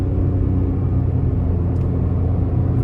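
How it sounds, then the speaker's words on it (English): A 2024 Mitsubishi Mirage ES with a CVT pulls along the road on a test drive, giving off a steady, close low rumble of engine and tyres with no voices. "starting the test drive in this Mirage ES"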